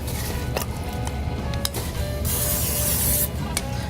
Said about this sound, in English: I'm going to spray my pan just a little bit.